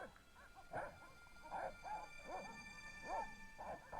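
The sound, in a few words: dogs barking in Broken Sword video game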